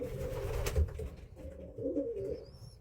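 A domestic pigeon coos in low, soft, repeated calls, close by in a quiet indoor space, with a faint higher chirp near the end and no speech.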